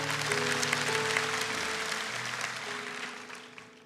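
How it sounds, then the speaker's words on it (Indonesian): A church congregation claps steadily for several seconds during a worship service, with sustained music tones underneath, the applause slowly fading toward the end. "Kasih tepuk tangan untuk Tuhan."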